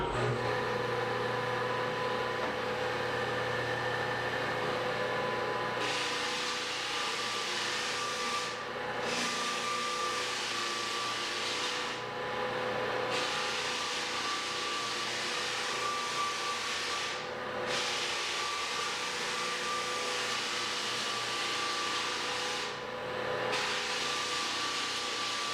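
A floor sander works over a red oak floor, feathering the sanded area, a steady close drone that swells and dips in repeated passes with brief lulls.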